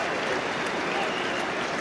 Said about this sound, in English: Warm round of applause for GBP.